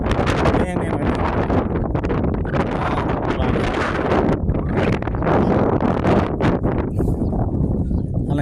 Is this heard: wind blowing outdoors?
yes